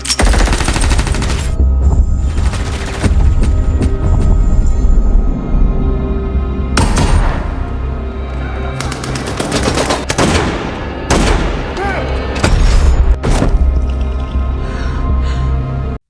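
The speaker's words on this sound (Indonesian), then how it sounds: "melihat saudaranya terkena tembak, Danny menjadi panik" Gunfire in a bank-robbery film scene crackles in dense, rapid bursts of loud, close shots that overlap into a fusillade, with brief lulls between volleys.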